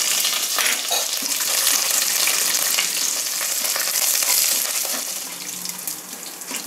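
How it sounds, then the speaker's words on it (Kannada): Mustard seeds, urad and chana dal, curry leaves and dried red chillies frying in hot oil for a tempering, a steady bright crackle and sizzle throughout that eases slightly toward the end, with no talk. "ಸಾಸಿವೆ ಹಾಕ್ತಾಯಿದ್ದೀನಿ, ಉದ್ದಿನಬೇಳೆ ಕಡಲೆಬೇಳೆ 2 ಮಿಕ್ಸ್ ಮಾಡಿ ಇಟ್ಕೊಂಡಿದ್ದು, ಕರಿಬೇವಿನ ಸೊಪ್ಪು, ಮತ್ತು ಒಣಮೆಣಸಿನ್ಕಾಯಿ."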